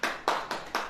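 A church congregation claps in four evenly spaced bursts of sharp, fairly soft handclaps, each a quick crackle of many hands fading before the next, with no voices over them.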